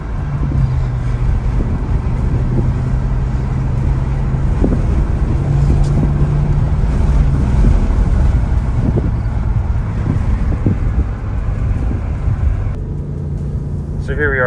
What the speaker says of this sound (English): So here we are driving the M6. It's driving pretty good. No weird engine noises.